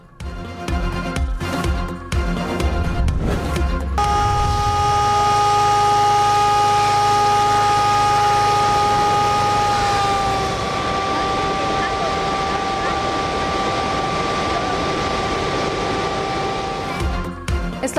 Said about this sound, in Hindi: अतराफ की आबादी को सायरन बजाकर अलर्ट किया गया।